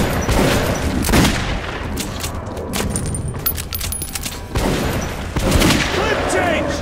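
Gunfire in the video game Metro 2033 Redux, a run of sharp shots and bursts scattered across the scene with game effects in between.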